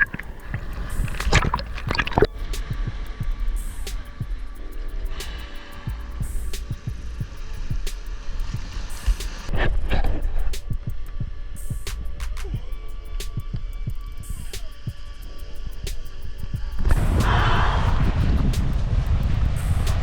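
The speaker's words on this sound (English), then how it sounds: "look at the wind blowing now" Strong coastal wind buffets the microphone in a steady roar with gusty swells, mixed with water sloshing and gurgling near a small boat or kayak, loud and continuous.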